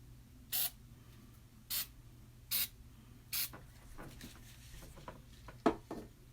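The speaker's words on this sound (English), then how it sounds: "I think I'm going to put one spray in every color except for the black." Silicone spray misted onto fluid-art paint in four short, evenly spaced hissing bursts, followed by a few faint clicks and taps.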